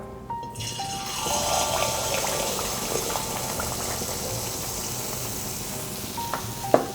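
Butterfly pea flower batter for lotus-shaped Thai desserts deep-fries in hot oil, a dense continuous bubbling sizzle heard close and steady throughout, with a faint clink near the end and no speech.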